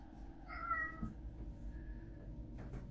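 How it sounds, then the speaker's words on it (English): A house cat meows close by, one drawn-out call followed by a fainter second one in an otherwise quiet room. "My cat just keeps walking around meowing"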